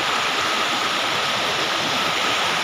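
A mountain stream in the Naran Kaghan valley rushes in a steady, dense, broadband roar of flowing water, close and continuous throughout with no voices.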